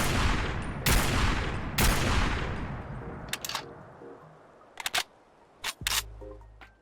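The DKS-501 sniper rifle from a Fallout 4 mod fires two loud booming shots with long echoing tails, followed by sharp mechanical clicks and clacks of reloading, all without talk.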